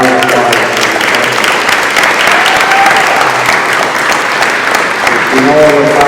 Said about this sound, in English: let's give these three folks a round of applause